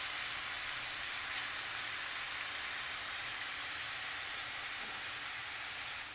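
Soffritto for a spring vegetable risotto sizzles steadily in a pan, a soft, even hiss of frying with no breaks, quiet and close, with no voices over it.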